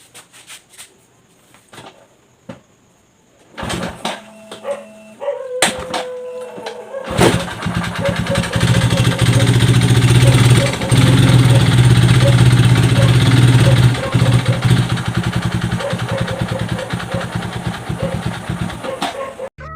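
A motorcycle engine with a faulty fuel pump sputters through a few tries, then catches and runs loudly, idling with a rough, uneven throb that carries on to the end.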